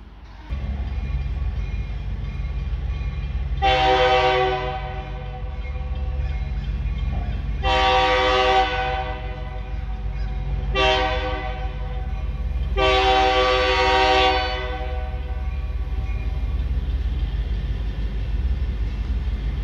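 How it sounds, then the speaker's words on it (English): A northbound freight train, light engines running with railcars, rolls past steadily while its horn blows four loud blasts, two long, one short and one long, over a continuous low rumble of wheels and engines. "got us a train going north."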